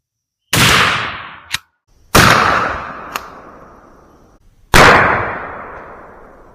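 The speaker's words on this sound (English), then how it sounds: "Shot number 2 with the Winchester double-aughts." Three loud, close blasts from a 12 gauge shotgun firing Winchester SuperX 00 buckshot, each sharp report decaying into an outdoor echo, with small clicks between shots.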